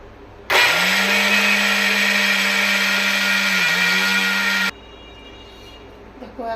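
An electric blender grinds soaked pistachios into a paste for kulfi, a loud, steady motor whine running for about four seconds, then cutting off abruptly, followed by faint handling noises.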